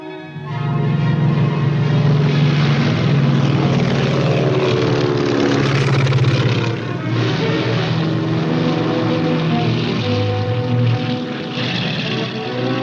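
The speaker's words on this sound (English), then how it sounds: "we loaded into aircraft to be airlifted over the Owen Stanleys to the north coast" WWII-era propeller transport aircraft flying troops over the Owen Stanley Range in New Guinea, a loud, steady droning engine roar throughout with slight variation in pitch, no voices.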